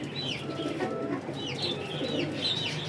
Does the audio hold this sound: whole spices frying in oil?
no